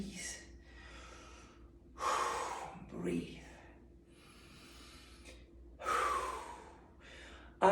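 Deep breaths taken after releasing fully tensed muscles during a workout, several long airy inhales and exhales with gasping onsets spread across the stretch over a low steady hum.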